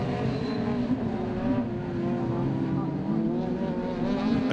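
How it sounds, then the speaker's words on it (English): V6 Renault Clio rallycross car at Pembrey in British Rallycross, its engine droning steadily with layered harmonics that rise slightly toward the end, a continuous loud note with possible commentary underneath. "The V6 Clio also makes a very distinctive engine note, and it's about to wail its way up the straight"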